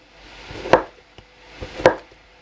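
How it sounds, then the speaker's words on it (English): Tomatoes are cut with a knife on a board, shown as two sharp chops about a second apart, each with a soft lead-in as the blade slices through, close and clear with no talk. "it's easier to cut them when you put the cut side down"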